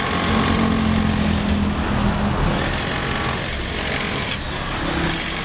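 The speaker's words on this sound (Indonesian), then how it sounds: "proses pengeboran tuh ya" Continuous loud drilling at a roadside fence construction site near a market, a steady grinding machine drone with high whine running unbroken.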